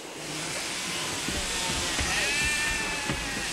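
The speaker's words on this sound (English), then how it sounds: "mustered enough sheep for the shearers to start their work" Sheep mustered for shearing in the Australian outback bleat in a dense, loud flock, with one clear drawn-out bleat rising above a constant wash of hissing noise.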